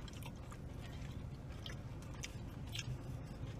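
Someone eating Domino's pizza up close, soft wet chewing and mouth sounds with a few faint crunchy bites under a low steady background hum.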